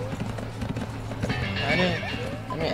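Horse hooves clip-clopping and a neigh from a horse in The Escapists 2 video game, steady and fairly close, mixed with game background sounds throughout the short stretch.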